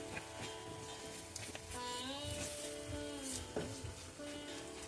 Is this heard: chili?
yes